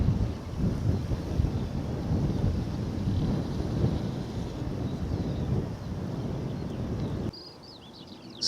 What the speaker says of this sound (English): Nice chill breeze, quite a stiff one actually.